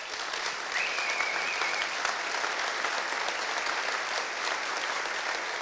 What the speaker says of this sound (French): On voudrait plein d'applaudissements